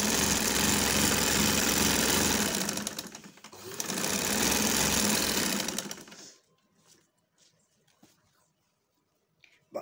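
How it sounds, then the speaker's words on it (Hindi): A sewing machine stitching cloth during beginner straight-stitch practice at home, a close, continuous loud whirring hum that dips briefly, runs again, then stops into near quiet. "क्योंकि जस्ट हम सिर्फ सिलाई की प्रैक्टिस कर रहे हैं"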